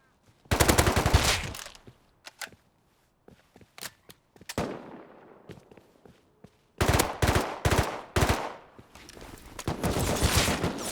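AK rifle fire from a video game rings out in rapid automatic bursts, a few sharp volleys separated by quieter single cracks and pauses, ending in a sustained stream of shots.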